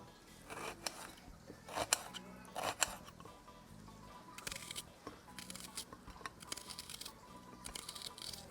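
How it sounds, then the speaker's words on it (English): A knife chops an onion on a board in a home kitchen in Trinidad, giving soft, irregular cutting taps and scrapes, some grouped in quick bursts, fairly quiet and close with no talking. "So I'm going to cut up my onion."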